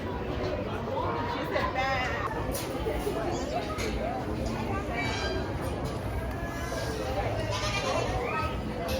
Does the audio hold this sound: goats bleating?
yes